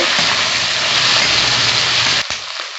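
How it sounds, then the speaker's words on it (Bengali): Chopped onion fries in a pan of hot oil with panch phoron and black cumin. The sizzle is a loud, dense, steady hiss that cuts away abruptly near the end. "আমি একটু ভাজা ভাজা করে নেব"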